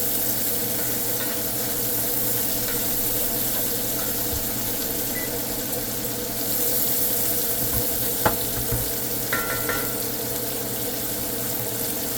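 Mushrooms sizzle steadily in a pan of bacon fat and butter, a continuous dense crackle with a few small clicks of stirring, close and fairly loud for the whole stretch.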